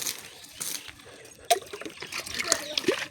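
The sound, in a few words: water poured on an apple tree plant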